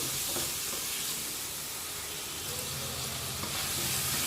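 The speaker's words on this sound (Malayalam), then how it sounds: "ഇനി തക്കാളിയും പച്ചമുളകും ഒന്ന് വഴറ്റി കൊടുക്കാം." Chopped tomatoes and green chillies sauté in a pan for a Kerala-style coconut fish curry, giving a soft, steady sizzle with faint stirring scrapes close by and no talk.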